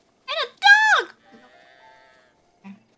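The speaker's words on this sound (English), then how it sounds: "There's sheep and cows." Sheep bleat twice in quick succession in the Breath of the Wild game world, clear and close, followed by a faint tonal game sound and a brief low thump.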